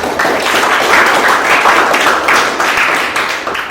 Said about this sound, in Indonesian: Kasih tepuk tangan untuk kawan.